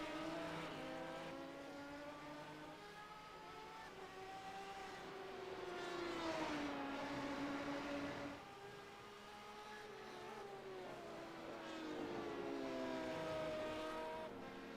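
A bright pink BMW sports race car drives down pit road, its engine note rising and falling in a steady drone with shifting revs, heard at moderate distance.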